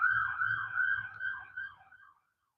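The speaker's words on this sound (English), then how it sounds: "that's like an ambulance fire truck." An ambulance or fire truck siren wails at a distance, its steady, wavering tone fading away and ending abruptly, with no voices.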